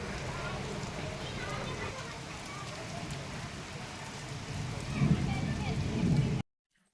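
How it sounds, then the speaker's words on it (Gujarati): Heavy early-monsoon rain pours down steadily outside a home, a dense, even hiss that swells slightly louder near the end before cutting off abruptly. "ચોમાસાની શરૂઆત થઈ ગઈ છે, વરસાદ પણ ધોધમાર આવે છે"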